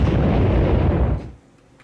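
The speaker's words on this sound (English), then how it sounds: "you can just sit back and watch the little guys explode" Lemmings exploding in the Sega Lemmings video game: a loud, dense rumbling burst of blasts that holds steady for over a second, then cuts off abruptly to near silence.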